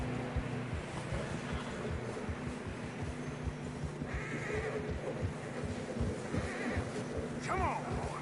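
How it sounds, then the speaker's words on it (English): A horse in the video game Red Dead Redemption struggles through fresh deep snow, giving a brief whinny and muffled, uneven steps over a constant ambient rumble, with a faint voice underneath. "Horse struggling. Yeah, a lot of fresh snow here."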